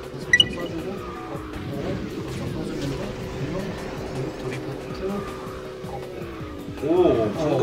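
Kart engines drone in KartRider Rush+ with a drawn-out tire squeal during a drift, its rising whine swelling near the end, while people talk over the game sounds.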